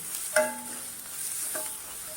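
A spoon stirs masala and salt into a Marathi-style cashew curry (kaju usal) in a pan, with a steady soft sizzle and a couple of clinking scrapes against the pan.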